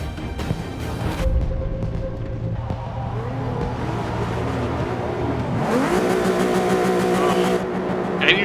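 Race cars start a race in Forza 6 Apex, engines revving hard and roaring together as the pack accelerates away. A steady, loud motor drone builds to a rising whine near the end.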